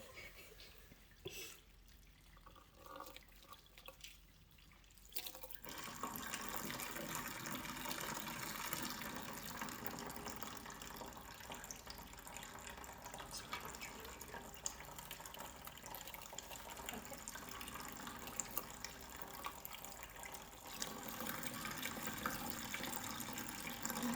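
Tap water runs steadily while a toddler's hair is rinsed after shampooing, a continuous splashing gush starting after a quiet opening and holding nearly constant to the end.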